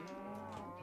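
A single short, close moo comes from a cow in the game Minecraft, heard clearly on its own.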